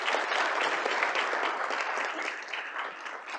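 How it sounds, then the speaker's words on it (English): A conference audience breaks into sustained, dense applause at a closing session, loud and continuous throughout with no voices over it. "And can we get another round of applause for Arkel,"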